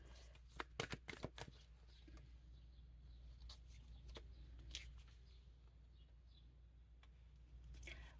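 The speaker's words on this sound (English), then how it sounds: "You saw me shuffle." A deck of cards shuffled up close, with a quick burst of crisp riffling clicks early on, then scattered soft taps and flicks in an otherwise quiet room.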